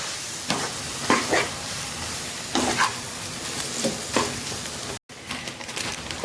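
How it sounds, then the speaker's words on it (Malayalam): Yippee egg noodles frying and being stirred in a pan, a steady hiss of sizzling oil punctuated by several scraping tosses, then a brief cut before the sizzle resumes. "ചേർത്തിട്ട് എല്ലാം കൂടെ മിക്സ് ചെയ്യണം"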